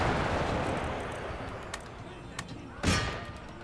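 Grenades burst amid a Napoleonic-era battle in Empire: Total War, a rumbling wash of distant gunfire broken by a few sharp cracks and one heavy, close explosion near the end.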